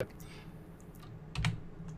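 Computer keyboard keys clack and click at a desk while software is operated, a few scattered close taps with one louder thump, under faint background.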